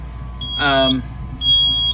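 A fire alarm device sounding during a Simplex fire alarm panel test: a short burst of warbling, sweeping alarm tone followed by a steady electronic beep, over a low background hum.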